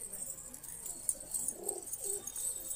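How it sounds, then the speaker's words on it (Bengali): Giribaz pigeons from Murshidabad give low, soft cooing calls at close range, a couple of murmuring coos over faint background noise. "এই হচ্ছে অল ওভার পায়রাগুলো।"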